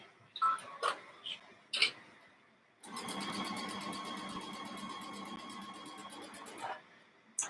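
Sewing machine stitching strips of a jelly roll race quilt, running at a steady rapid rhythm for about four seconds after a brief stretch of someone talking nearby.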